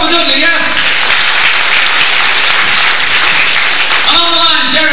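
Theatre audience on a seaside pier in Blackpool clapping for a band's keyboard player, a loud burst of applause between stretches of someone speaking over a microphone at the start and end.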